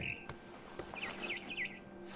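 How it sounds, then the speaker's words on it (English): A barn swallow chirps in the game What Remains of Edith Finch, giving a quick series of bright, faint twittering notes over soft ambient background. "Then I heard chirping outside my window. It was a barn swallow going back to her nest."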